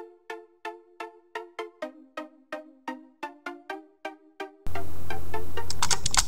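Basic, thin big room EDM synth lead from a progressive house production plays a rhythmic run of short, evenly spaced plucked notes, then a dense, noisy, sustained layer takes over near the end.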